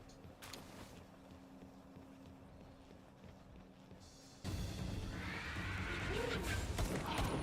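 A horse-like mount in Palworld gallops with rhythmic clip-clop hoofbeats and a brief whinny, the running sound growing louder partway through.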